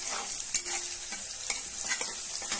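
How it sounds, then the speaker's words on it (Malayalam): Raw plantain stir-frying in a hot, thick-bottomed pan gives a close crackling sizzle with repeated spatula scrapes and stirs at uneven intervals, and no talking. "നന്നായിട്ട് വഴറ്റുക."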